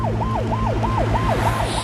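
An ambulance siren wails in a steady repeating up-and-down sweep, loud and close, with a constant engine drone beneath it.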